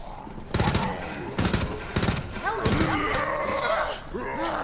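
Gunfire in Resident Evil 2 Remake: several loud, close shots fired in quick succession, followed by growling and creature noises, with a player's voice talking over the game.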